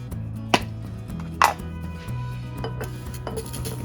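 Small aluminium motorcycle paddock stand parts are dropped into a glass Dolmio jar, giving two sharp clinks of metal on glass followed by softer rattles and taps over a low background hum.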